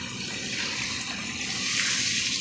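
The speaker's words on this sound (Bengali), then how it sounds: "এবার জল দিয়ে দেবো" Water is poured into a cooking pot of Kashmiri dum aloo, a steady gushing splash that holds for a couple of seconds, fairly close and unaccompanied by talk.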